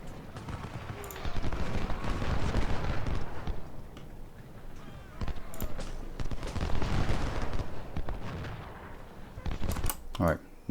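Scattered volleys of Civil War musket fire and cannon booms in Ultimate General at a Potomac fort, bursts rising and falling in waves across the field, some distant and some close, under someone talking.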